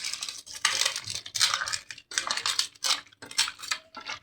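Mutton being mixed by hand with turmeric and curd in a metal vessel, giving irregular clinks, scrapes and squelchy rubbing in short bursts with brief pauses, close and moderately loud, with no talking.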